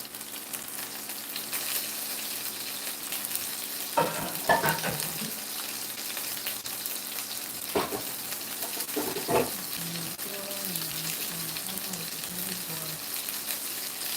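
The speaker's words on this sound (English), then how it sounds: "that popping and sizzling on this chicken." Low, steady sizzling and popping of chicken frying in a pan throughout, with a few scraping stirs and clattering touches in the pan, and faint voices partway through.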